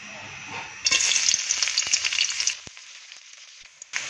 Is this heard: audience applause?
no